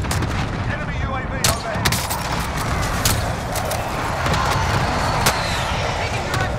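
Video-game gunfire rattles loud and constantly, with sharp shots and bursts over a busy battle din, while a voice talks.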